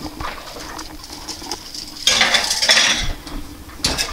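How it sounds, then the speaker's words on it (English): Eggs in a pan going into an oven, with close metallic clattering and scraping of cookware, a loud burst of clanking in the middle and another short clank at the end, no talk. "So for right now, let me put the eggs in the oven."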